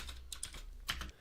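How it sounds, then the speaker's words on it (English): Java code is typed on a computer keyboard in a few quick, soft, close keystrokes with no speech over them. "So I'm going to start by typing dialog"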